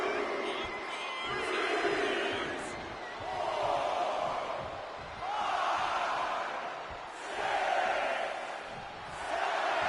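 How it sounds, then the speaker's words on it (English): An arena crowd in the WWE 2K25 wrestling game swells and fades in repeated waves of cheering at a Last Man Standing US Championship match, with commentary talk running over it. "He knows who this crowd paid to see."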